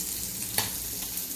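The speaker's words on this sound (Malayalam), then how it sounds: "ഇപ്പുറത്തെ മീൻ വറുത്തത് റെഡിയായിക്കൊണ്ടിരിക്കുകയാണ്" Fish fries in a pan with a continuous close hiss and sizzle, broken by a single sharp crackle partway through; no voices.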